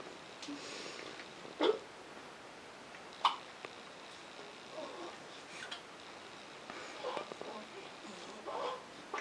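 A baby hiccups in short, sharp bursts with a few seconds between them, close to the microphone. Soft background noise and faint fussing fill the gaps.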